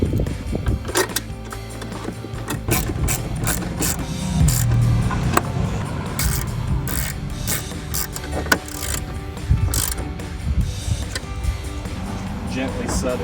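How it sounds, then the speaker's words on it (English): A ratchet with a 7mm socket tightens the bolts on a 2014–2015 Camaro tail light while Morimoto XB LED units are installed. Rapid close-up clicking and ratcheting come in bursts, with a few sharper knocks between them. "take your two 7mm bolts with your 7mm socket"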